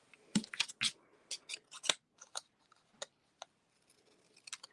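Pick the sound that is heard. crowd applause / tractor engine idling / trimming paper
trimming paper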